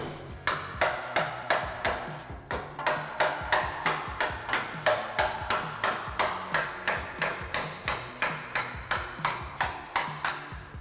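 A fairly heavy hammer strikes curved sheet metal at a steady, rapid rhythm, shaping a flange for an inner structure, with dozens of sharp ringing blows close by and no talk.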